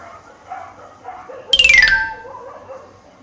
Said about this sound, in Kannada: ಹೊರಗಡೆ ನಾಯಿಗಳು ಬೊಗಳ್ತಾ ಇದೆ.